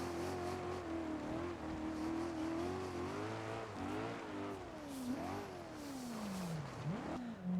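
A V8 engine revs up and down repeatedly, its pitch rising and falling, with a steady rumble underneath and no talking, in the driving game BeamNG.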